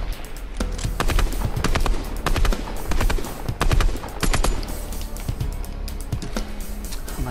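Rapid bursts of game gunfire in Fortnite Chapter 2, sharp repeated shots with clattering transients running throughout at close range, no talk over it.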